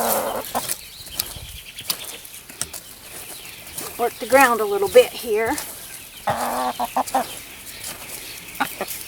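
Chickens cluck nearby in short bursts while a person talks, with scraping from digging a garden trench in the background.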